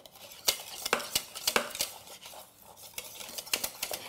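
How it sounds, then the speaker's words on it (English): Whisking vanilla bean pastry cream with melting butter in a pot gives quick, irregular metallic clinks and scrapes of the whisk against the pot, close and fairly quiet, with no voices. "just whisk that until the butter melts and everything is equal"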